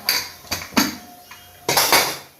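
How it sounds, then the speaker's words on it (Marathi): A metal spoon stirs ingredients and black masala together in a pot, producing about five sharp ringing clanks and scrapes in uneven succession, close and loud with nothing else around them. "हे सर्व मिक्स करून हे सर्व व्यवस्थित मिक्स करून घ्यायचं"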